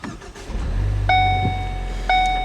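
A 2013 Ford Focus ST cranks and fires up with a low rumble that settles into a steady idle, while a chime sounds a couple of times over the engine.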